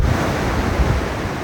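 Typhoon waves surging into a fishing harbour on the Sanriku coast of Japan, a loud continuous wash of surf mixed with heavy wind buffeting, with no speech.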